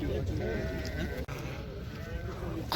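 Sheep bleat repeatedly at a livestock market in Uzynagash near Almaty, several overlapping calls close by under someone speaking continuously.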